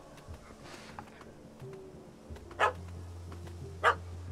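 A puppy barks at a cat up a tree in The Witcher 3, two sharp barks about a second apart over a low ambient hum, with faint background rustling.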